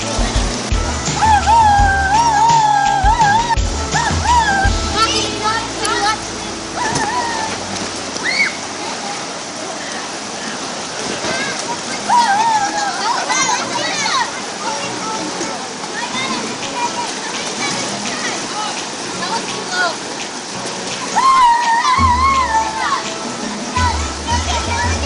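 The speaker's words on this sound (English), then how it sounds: "Kids are in the water having some fun with their cousins" Children playing and splashing in water with their cousins at a campsite: a continuous wash of splashing and rushing water runs throughout, with excited kids' voices and shouts rising over it.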